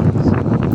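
Wind buffeting a microphone outdoors, a steady low rumbling roar with gusty swells lasting under a second and no voices.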